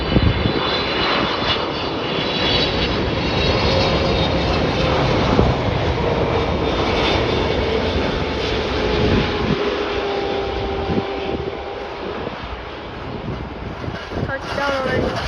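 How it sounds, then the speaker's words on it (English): A Japan Airlines Boeing 777-346ER arriving from Tokyo Haneda at Chicago O'Hare roars loudly and steadily with a broad jet-engine rumble and whine that hold for the whole stretch. "that is a Boeing 777-346ER Japan Airlines arriving in from Tokyo, Haneda"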